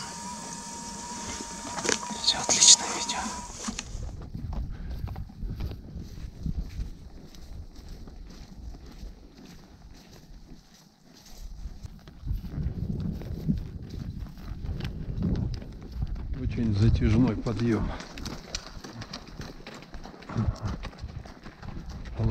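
Horses' hooves clip-clop in an uneven walking rhythm as they labor up a long mountain climb, with a sharp mechanical whine at the start and someone speaking briefly.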